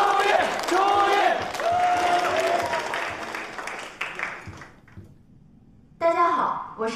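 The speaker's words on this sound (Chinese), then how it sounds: "大家掌声欢迎" An audience welcomes a student onto a school stage with applause and crowd noise that fades to near silence, and then a person begins speaking.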